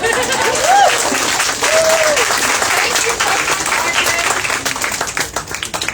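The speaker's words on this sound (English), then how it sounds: "They all clapped." Audience applause at a poetry event in Brisbane, dense steady clapping that fills the room from start to finish, with a voice speaking briefly over it near the beginning.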